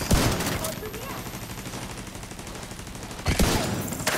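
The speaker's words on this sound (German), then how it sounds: "das schießt jetzt oben auch" Gunfire in The Division 2, a close, dense burst of shots opening the moment, then a rumbling exchange continuing at a lower level before another sharp volley near the end, with a voice speaking over it.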